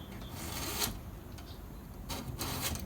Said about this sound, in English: take the file, follow the contour of the blade